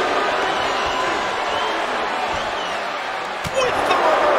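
Arena crowd at a wrestling match in the WWE 2K22 video game, a broad steady murmur of spectators that swells with a sharp impact near the end, heard under a commentator's voice.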